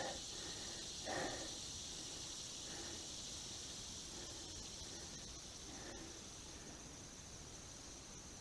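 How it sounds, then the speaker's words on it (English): Cicadas buzz outdoors in a faint, unbroken high-pitched drone, with a few soft, dull knocks now and then underneath, near a WEN 56225i generator. "We've got cicadas and everything else out here"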